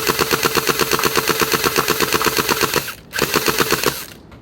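MKM2 gel blaster toy gun in full-auto, close up and loud, a rapid even stream of shots that stops briefly, resumes for a shorter burst, then cuts off.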